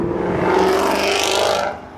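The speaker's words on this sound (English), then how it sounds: "So you've got a GT350? GT350 rolling in" A Ford Mustang GT350 rolling in at a car meet, its loud steady engine roar and whir holding strong for over a second and a half before easing off as it passes.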